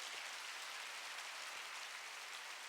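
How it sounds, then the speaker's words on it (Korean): A church congregation applauds in a steady, dense wash of clapping that holds evenly throughout, somewhat soft and diffuse, with no speech over it. "그분들에게 한번 박수를 보내주시기 바랍니다."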